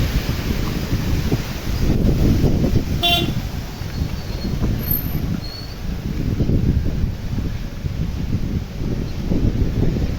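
Wind gusts roar and buffet close by in rising and falling waves, with a brief faint horn toot in the distance.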